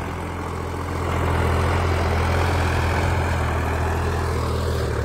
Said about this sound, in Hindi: ट्रैक्टर है